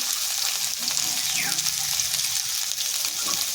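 Onions with salt fry in hot oil alongside aubergine and potatoes, giving a steady close sizzle with stirring scrapes and faint background clatter throughout.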